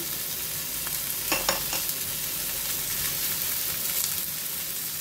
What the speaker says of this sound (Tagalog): Ginisa ko muna yung hipon para hindi siya masyadong malansa mga lodi mamaya